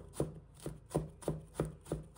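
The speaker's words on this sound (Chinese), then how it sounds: "再切成条， 然后切成小粒，加入胡萝卜" A knife chops cut strips of food into small dice on a board. Six crisp, evenly spaced chops fall at a steady rhythm, close and clear over near silence.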